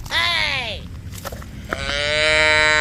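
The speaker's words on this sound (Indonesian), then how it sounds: "Wah, yang ini ada sapi." A cow, a sacrificial animal, moos twice, loud and close, each call long and drawn out with a short gap between them.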